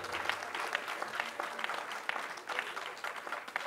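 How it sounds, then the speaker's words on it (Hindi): Steady audience applause fills a hall during a Hindi humour and satire poetry recital (kavi sammelan), dense continuous clapping held at an even level from start to finish. "एक बार ताली वाली बजाकर बताओ कि आचमन शुरू हो चुका है"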